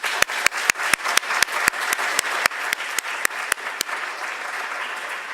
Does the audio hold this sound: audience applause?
yes